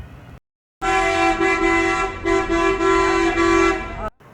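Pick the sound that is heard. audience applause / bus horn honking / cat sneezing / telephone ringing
bus horn honking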